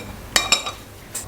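Spoon clinks against a bowl while stir-fry sauce is mixed, a few sharp close metallic taps spaced unevenly over a quiet background.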